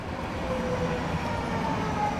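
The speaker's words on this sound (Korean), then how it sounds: "지하철이 곧 여기에 도착합니다" In a video game, a subway train pulls into a station with a steady, close rumble and faint high tones drifting over it.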